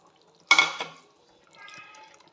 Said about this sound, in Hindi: अब हम इसमें अंडे डालेंगे, अंडे बॉयल हो गया हमारे